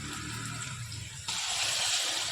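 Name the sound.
water being poured into pot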